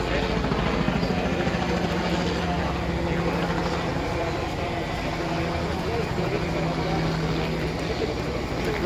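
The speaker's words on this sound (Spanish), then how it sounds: "¿Vamos con el helicóptero o no" A helicopter hovers over a residence, its loud, steady rotor and engine drone continuing throughout with a constant thudding texture, while people talk underneath.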